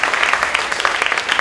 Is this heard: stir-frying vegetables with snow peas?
no